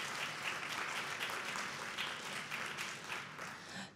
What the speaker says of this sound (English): Yes, clap your hands, please.